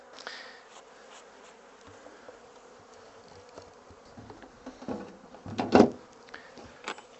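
A honeybee colony buzzes steadily at low volume while a beekeeper works the hive to split it, with occasional wooden knocks and a louder clunk of frames or boxes near the end.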